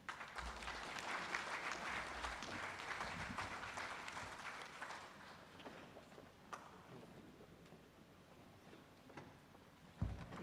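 Audience applause at a national seminar on banking for judges, a dense burst of clapping that fills the first half and then thins into scattered claps before a final thump.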